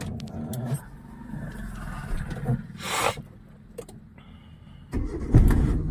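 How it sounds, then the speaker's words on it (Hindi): A car's engine is cranked with the clutch pressed and catches during a driving lesson in an apartment parking area, with a loud burst of starter and engine noise near the end after quieter rustling and clicks. "अभी क्लच दबा के स्टार्ट करेंगे इंजन को हम लोग"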